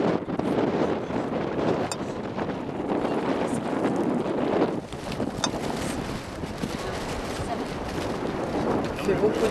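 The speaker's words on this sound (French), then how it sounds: "Il fait beaucoup de vent." Strong wind buffets the microphone outdoors in a continuous loud roar that swells and dips slightly without a break.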